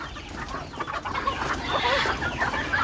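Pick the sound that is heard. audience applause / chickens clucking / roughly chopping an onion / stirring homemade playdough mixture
chickens clucking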